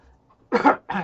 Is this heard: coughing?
yes